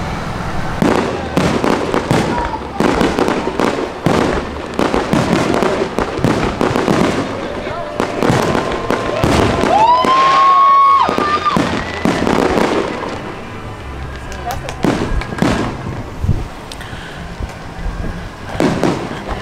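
Fourth of July fireworks at an American Independence Day celebration, rapid loud bangs and crackling bursts throughout with a whistling rise near the middle, crowd voices mixed in.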